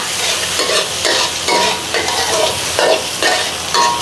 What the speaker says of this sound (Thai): แล้วก็ใส่พริก พริกกับกระเทียมที่เราปั่นเมื่อกี้ลงไปเลยค่ะ